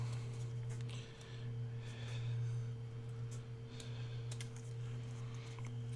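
Scissors snip through folded paper to cut out a small ice cream cone shape, making light, irregular clicks and cuts over a steady low hum.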